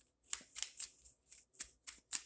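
Tarot cards shuffled by hand, a quick run of soft crisp riffles and flicks in a quiet room, about seven bursts in close succession.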